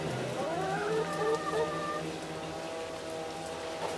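Hens on a free-range grassy run cluck in a rising, drawn-out series of calls, fairly close and clear over a low background hum, with no one talking.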